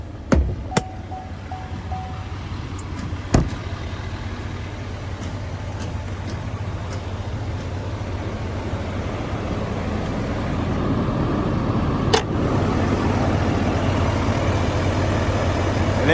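A 6.6 liter Duramax diesel in a 2021 Chevrolet Silverado 3500HD flatbed idles with a steady low rumble that swells slightly over time, with a couple of sharp clicks and knocks close by.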